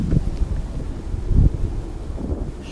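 Steady wind buffets a small FPV drone, a Beta FPV HX100 SE, as a rough broadband roar with a few louder gusts, close to the microphone and with no voices.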